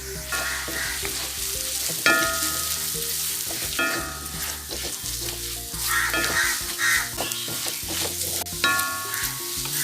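Onions with chilli and coriander powder fry in a pan for a beef and tapioca dish, a steady close sizzle broken by repeated scraping and clanking stirs, with a crow calling faintly in the distance.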